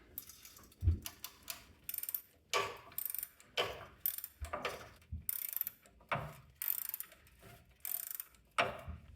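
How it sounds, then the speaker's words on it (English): Ratchet with an extension loosening a suspension nut on a 1994 Chevy K1500 truck, close and fairly quiet, with repeated bursts of rapid clicking strokes at an irregular rhythm and no talk. "I'll add on my ratcheting extension, because why not?"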